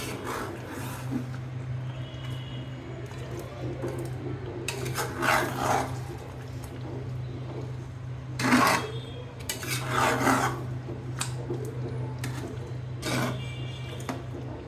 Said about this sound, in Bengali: একটু ধুয়ে দিয়ে দিলাম। ভালো করে নাড়বো।